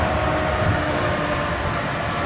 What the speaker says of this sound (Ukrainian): поїзд мене обігнав і пішов на тюбінген